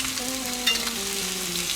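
Sausages and onions fry on a grill with a steady, close sizzle, while a faint tone wavers underneath.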